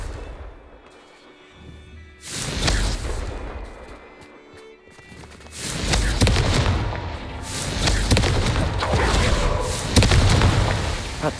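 Hogwarts Legacy spell combat: Confringo fire blasts bursting with loud booms and crackling impacts, two sustained loud stretches of explosive noise separated by a quieter lull.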